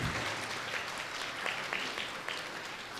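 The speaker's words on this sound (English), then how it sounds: "Give a big round of applause to all the teachers." A crowd of parents and guests at a kindergarten graduation ceremony claps loudly and steadily for the teachers, a thick, continuous wash of applause with no break.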